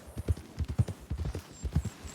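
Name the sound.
horse hooves in Red Dead Redemption 2 video game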